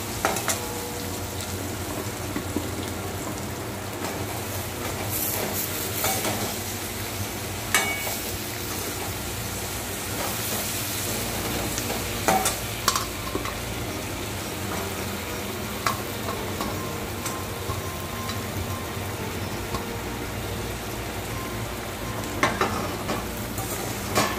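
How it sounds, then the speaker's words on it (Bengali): Pui saag greens sizzle steadily in hot oil with prawns and turmeric in a Bengali home kitchen. A continuous close frying hiss is broken by occasional stirring clinks. "এবার আমি শাকটা দিয়ে দিচ্ছি।"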